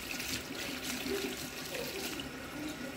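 Water runs steadily from a salon wash-basin tap while bleached, dyed hair is being rinsed and wetted. The rush is close and continuous, with no talking.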